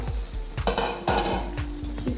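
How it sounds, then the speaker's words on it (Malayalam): A spoon stirs Kerala-style chicken roast in a pan, with repeated scraping, clinking strokes over a soft sizzle, close and fairly loud. "ഇളക്കി കൊടുക്കണം."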